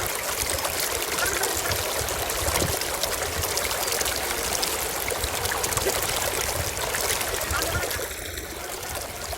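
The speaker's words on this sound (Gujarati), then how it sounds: "હમણાં જ વરસાદ થયો હોવાથી અત્યારે ધોધમાં અને નદીમાં પાણીનું સ્તર અને તાણ ખાસું વધારે છે" A swollen river and the Ravadiyo waterfall in Gir forest rush after fresh rain, a dense, constant roar of flowing water that stays loud and close throughout.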